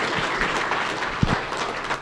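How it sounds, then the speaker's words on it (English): Audience applause for a board of directors at a welcome gathering, a steady wash of many hands clapping for about two seconds at moderate level, with a brief sharper clap near the middle. "So round of applause to the board of directors."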